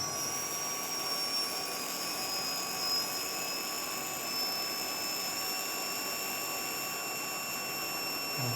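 A homemade high-speed fan driven by a brushless drone motor without a propeller runs with a steady, piercing electric whine and layered high tones, loud and close, with no talk.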